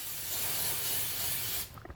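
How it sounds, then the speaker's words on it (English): Cooking spray hissing onto a hot round waffle iron in a kitchen, one continuous spray lasting over a second and a half, then a short clatter. "now we are going to spray this with a little bit of spray and cook"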